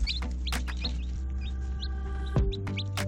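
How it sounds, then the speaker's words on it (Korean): Chicks peep inside a chicken coop, bright rising chirps repeating every fraction of a second, close by, over low clucking from a hen and a steady background hum. "적막했던 닭장안이 순식간에 병아리들의 삐약 소리로 가득 차버린 것 같다"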